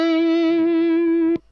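A loud distorted electric guitar holds one long sustained note in a solo lick, rich in harmonics with a slight wavering, then stops abruptly with a pick click.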